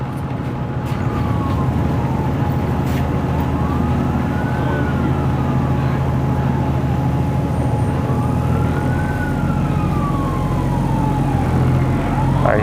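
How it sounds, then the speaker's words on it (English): Emergency vehicle sirens wail on a Toronto street, slow rising and falling tones heard at a distance beneath steady, loud traffic and vehicle rumble. "I hear sirens."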